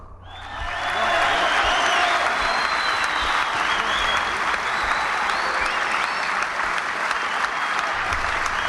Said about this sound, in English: he wants his round of applause